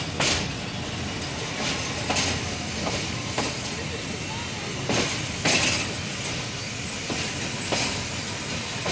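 A train pulls into Sangla Hill Junction station in Pakistan behind a ZCU-20 locomotive, its wheels clattering steadily over rail joints in loud, regular clacks with a continuous rumble, recorded close to the track.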